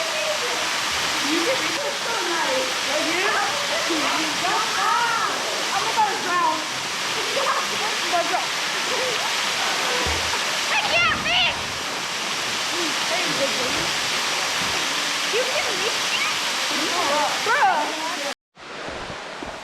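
Loud, steady roar of a waterfall at a camping spot, a continuous broadband rush filling the whole stretch, with faint voices or bird-like chirps mixed in, cutting off abruptly near the end.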